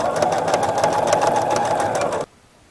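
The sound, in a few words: sewing machine stitching a pillow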